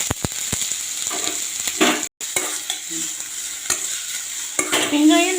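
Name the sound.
chopped onions sizzling while frying in a pan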